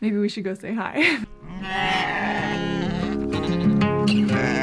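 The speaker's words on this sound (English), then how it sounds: "You can hear all the sheep and goats in the background." Sheep and goats bleat on a farm in Germany near Rosdorf, with a few wavering calls nearby, partly under a person talking, and a steady low background hum.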